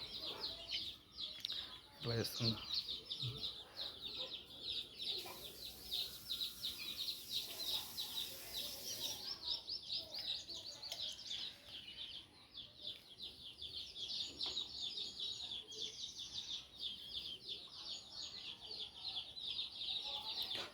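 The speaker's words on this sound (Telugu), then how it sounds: "కోడిపిల్లలు చూస్తున్నారు కదా మీరు" Berasa breed chicks cheep in a dense, continuous chorus of high, rapid peeps close by, with someone talking intermittently over them.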